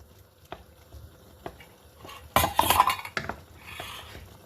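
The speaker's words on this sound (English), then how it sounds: "Make sure you give it a good stir and let it simmer for another few minutes" A utensil stirs thickening tom yum gravy in a pot, scattered light metal clinks followed by a louder burst of scraping and knocking against the pot, then a soft bubbling simmer trailing off.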